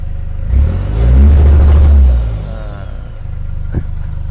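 A car engine held on launch control revs up to a loud, steady high-idle drone for about a second and a half, then settles back to a rough idle, with a sharp clatter or pop near the end.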